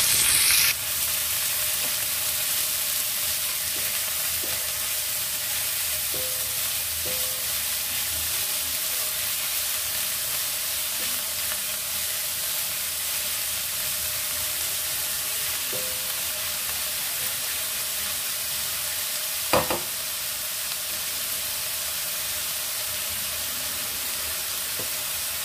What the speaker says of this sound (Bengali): সবজিগুলো হাই হিট করে সটে করে নেব।